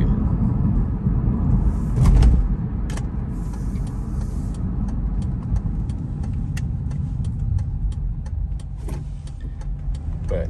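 A 2004 Mazda 6 station wagon driving, with a steady low road rumble and engine drone from inside the car, a brief louder thump early on and light clicks and rattles scattered across the drive.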